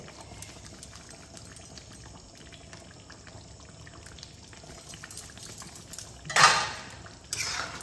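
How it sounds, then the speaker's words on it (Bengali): Fish egg kofta curry with ghee and kasuri methi stirred in a pot, quiet low simmer broken by a couple of louder metallic scrapes and clanks of a utensil against the pot near the end. "ভালোভাবে নাড়িয়ে নেব।"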